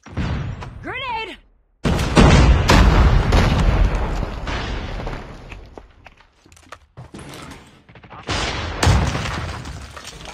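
A grenade explodes in a video game: a shouted voice is followed, after a brief silence, by a heavy, loud blast. Rumbling gunfire and impacts carry on afterward.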